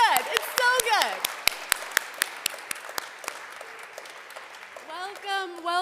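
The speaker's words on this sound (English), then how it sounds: "let's just clap" A Unitarian Universalist church congregation claps during a Sunday service: a handful of distinct, scattered claps in the middle, with a person speaking at the start and again near the end.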